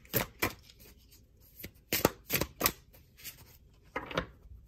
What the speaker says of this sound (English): Shuffle these cards. They're too freaking enormous.